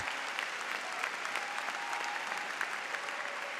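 A large arena crowd applauds steadily after a men's free skate at the 2022 Grand Prix of Figure Skating in Angers, a continuous dense patter of many clapping hands heard from a distance.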